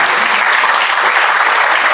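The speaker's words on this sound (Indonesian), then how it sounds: "tepuk tangan saudara" A church congregation at a gospel sermon claps in a steady, dense burst of applause, loud and even throughout with no voices over it.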